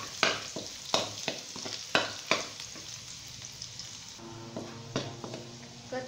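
Long beans stir-fried in leftover pork oil for a southern Thai shrimp-paste dish, with soft sizzling and sharp rhythmic spatula strikes on the pan, close by.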